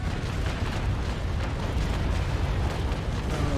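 A carronade broadside fires from a sailing warship in the naval combat game Naval Action, a dense continuous roar of overlapping booms filling the whole stretch, loud and close, with no talk over it.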